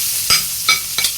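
Onion being sautéed in a pan with garlic, a quiet sizzle broken by three short stirring scrapes of a utensil, close and fairly loud.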